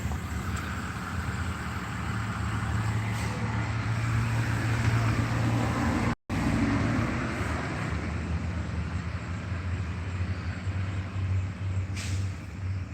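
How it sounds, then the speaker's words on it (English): A loud truck passing nearby: a heavy rumbling engine roar that holds steady throughout with a brief dropout midway, no talk. "That loud truck was in there."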